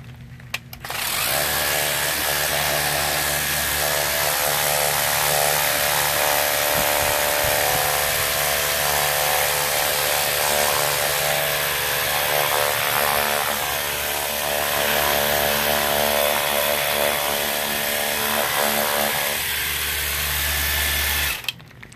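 A Worx Hydroshot cordless power cleaner sprays steadily against a shaded house wall to strip algae, a loud, continuous high-pressure hiss and motor whine running unbroken for about twenty seconds, close by, with no talking.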